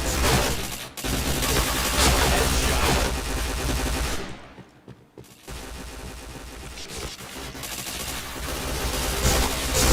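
Sustained loud automatic gunfire from a video game, rapid continuous bursts with recoil-heavy spray, briefly pausing mid-way before resuming dense shooting.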